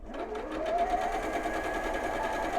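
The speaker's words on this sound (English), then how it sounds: "And then I'm gonna sew a 1/4 inch seam all the way around this square." Sewing machine running a quarter-inch seam around a half-square-triangle quilt block, a steady continuous motor whir with needle chatter, close and alone.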